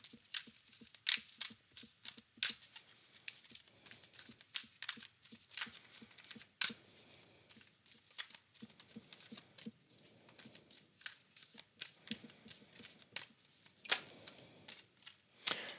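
A deck of tarot or oracle cards is shuffled by hand in a steady series of crisp riffling and flicking bursts, close and fairly quiet, with no talking.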